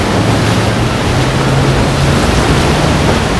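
Ocean surf at Haulover Park rolls in as a continuous loud wash of broadband noise, steady and unbroken, with no voices over it.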